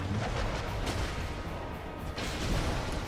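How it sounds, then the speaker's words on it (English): A big explosion in the video game Dark Souls roars as a dense, loud, sustained blast of rumbling noise, with a fresh burst partway through and no talking over it. "Big ol' explosion."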